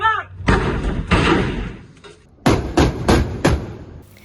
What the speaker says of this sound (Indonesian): Dentuman meriam kaliber 20 mm, 30 mm, dan 57 mm menggelegar memecah kesunyian Laut Jawa.